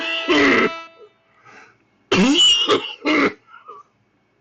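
A man's coughing fit, close and loud: a harsh cough, a pause, then a cluster of three rasping coughs with a wheezy, strained edge.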